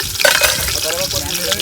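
A spoon stirs chillies frying in hot oil, giving a loud, close sizzle with scraping and spattering that runs steadily through the whole short moment.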